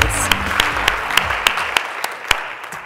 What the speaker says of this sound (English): How about one more round of applause for all of our regional finalists?